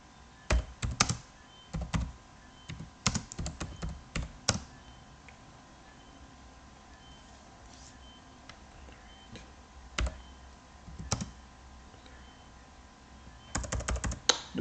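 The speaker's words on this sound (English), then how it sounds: "I don't know why my keyboard isn't working." Computer keyboard typing in separate bursts of sharp keystrokes with quiet gaps between them, close and clear, while a person prepares an English exam essay.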